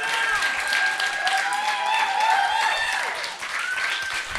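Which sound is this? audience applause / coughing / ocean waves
audience applause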